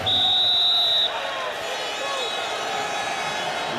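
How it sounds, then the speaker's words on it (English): A referee's whistle in a Euro 96 quarter-final football match between Portugal and the Czech Republic, one sharp, loud blast lasting about a second over crowd noise, followed by a commentator speaking over the stadium murmur. "And the whistle goes for a free kick to the Czechs"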